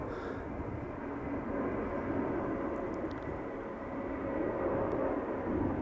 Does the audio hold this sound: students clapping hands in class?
no